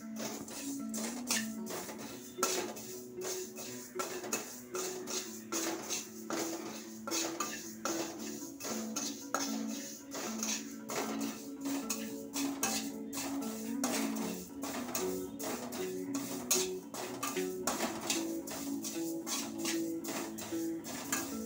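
Malvani masala spices roast in a pan while being stirred, producing rapid repeated scraping and clinking of a utensil against the metal, busy and continuous at moderate volume with no voices.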